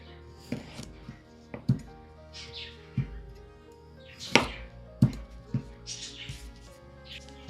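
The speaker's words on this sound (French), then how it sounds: "on coupe les pommes de terre en deux" A knife cuts potatoes in half on a board, giving a series of crisp, irregularly spaced thunks with quiet pauses between cuts, heard up close.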